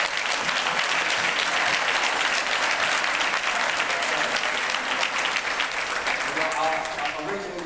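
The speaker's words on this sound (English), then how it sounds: "Let's give our brother another thunderous round of applause." Loud, dense applause from men gathered at a mayor's breakfast meeting, continuous rapid clapping that holds steady, then eases slightly near the end as a voice begins.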